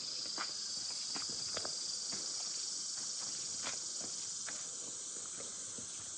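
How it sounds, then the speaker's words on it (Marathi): Dense, loud cricket chirring fills a night trail near a dry riverbed on the Girnar pilgrimage route, a steady high shrill with faint scattered clicks and rustles beneath, no voices. "रातकिड्यांचा आवाज"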